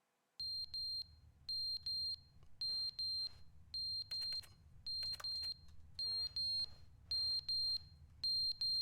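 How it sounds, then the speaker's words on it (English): Smoke alarm chirping for a low battery inside the video game The Stanley Parable: a steady series of short, bright electronic beeps repeating in an even rhythm, fairly loud over a low background hum, with no talking. "Oh, the battery on the fire alarm."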